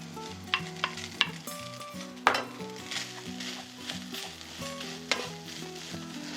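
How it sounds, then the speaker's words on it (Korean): Rice and egg stir-fried with a spatula for shrimp fried rice crackle and sizzle steadily, with repeated sharp scrapes and clacks of the spatula against the pan, behind faint music. "주걱으로 밥알을 눌러가면서 뭉치지 않도록 볶아주시고 밥알이 충분히 볶아진 색이 나오도록 익혀주셔야 합니다."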